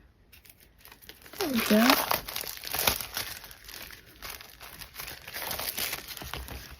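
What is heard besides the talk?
breaking through plastic packaging with a pick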